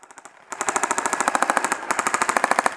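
Airsoft guns firing in rapid full-auto bursts, a sharp regular rattle of shots, quieter at first and then loud and close, with a short pause before firing resumes.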